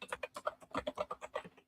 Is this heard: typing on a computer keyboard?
yes